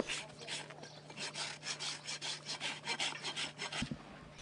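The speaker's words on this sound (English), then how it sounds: "Then rasp it down, make sure the foot's level, flat." A farrier's rasp drags across a horse's hoof in quick rhythmic strokes, a dry scraping rub repeating about twice a second, close but fairly soft, ending with a couple of light knocks.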